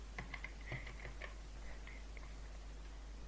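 Computer keyboard keys clack while C code is typed, a quick irregular run of taps in the first half that thins to a few scattered strokes, close and fairly quiet.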